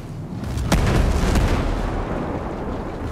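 Incoming fire in the video game Ghost Recon Breakpoint, a loud close blast with sharp cracks, followed by a rumbling boom that slowly fades, with no voices.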